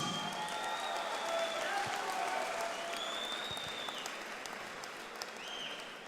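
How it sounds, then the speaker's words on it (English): The crowd at an amateur fight event applauds both fighters after the bout. Sustained, evenly spread clapping carries a few faint whistles and fades slightly toward the end. "Round of applause to both fighters, please."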